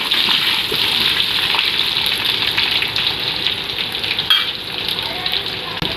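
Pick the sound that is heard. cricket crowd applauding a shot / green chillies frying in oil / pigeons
green chillies frying in oil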